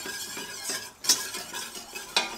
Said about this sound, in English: I'm melting the butter.